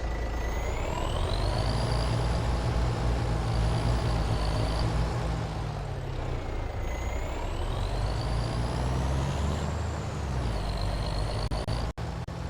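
A truck with air brakes in Farming Simulator 25 drones with a loud, steady engine tone that rises and falls through gear changes and ends with a short, sharp hiss of released air.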